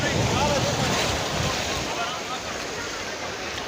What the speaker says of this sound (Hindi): बहुत प्यारा ही समंदर की मौजें